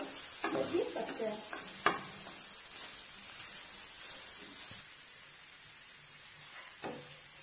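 Momo filling cooks lightly in a pan, giving a faint, steady sizzle. A few distinct scrapes and taps of a spoon stirring come early on, then the sizzle continues more quietly on its own, without speech.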